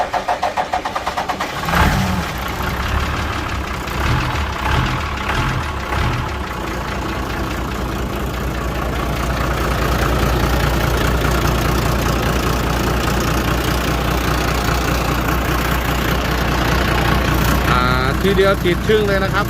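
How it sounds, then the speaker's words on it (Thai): Hino EH700 truck diesel engine, parked for about two years, cranks and catches quickly, then settles into a steady, loud idle with a brief rev, as people talk nearby. "รถคันนี้ครับ เครื่องติดง่ายเลยนะครับ"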